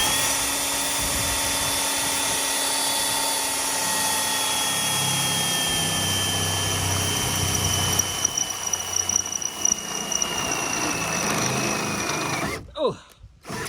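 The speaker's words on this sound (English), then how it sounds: "I have my 2 holes drilled" Power drill boring holes for Mahindra ROXOR heavy duty floor mats, a steady high whine running continuously for most of the clip with a slight pitch drop before stopping near the end.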